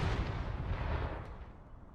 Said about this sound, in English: Where are my howitzers?